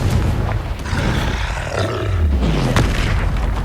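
A Confringo fire spell explodes in the Hogwarts Legacy video game, a loud booming, roaring blast with deep rumbling that sustains through the moment amid game combat noise.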